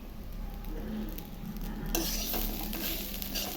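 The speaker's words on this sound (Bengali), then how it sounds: "চালগুলো ভালো করে ভাজতে হবে।" Rice and cashews frying in a pan for pulao, a steady close sizzle with stirring scrapes that grows a little louder and brighter midway, with no talk.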